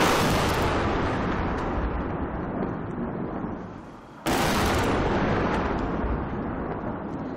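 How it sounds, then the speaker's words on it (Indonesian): Bomb explosions at a Syrian rebel compound in Idlib province boom loudly and close, one long blast decaying into rumble, then a second sharp detonation that rolls on, with no voices. "ledakan bom terdengar dari kompleks pemberontak Suriah"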